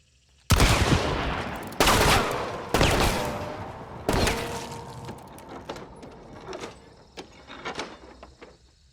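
A Romero 77 Alamo shotgun fires four loud, close blasts in Hunt: Showdown, spaced about a second apart, each with a long ringing decay, followed by quieter metallic clicks and handling noises as the gun is worked.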